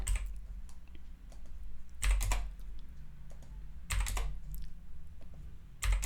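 A computer keyboard is typed on nearby while code is being written, with quick bursts of clicking keystrokes separated by short pauses over a low steady background hum.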